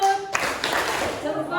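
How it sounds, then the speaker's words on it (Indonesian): Students in a classroom perform a patterned group clap for a classmate team, short sharp bursts of hands striking in rhythm, with a teacher's voice and children's chatter around it. "tepuk salut untuk kelompok 4"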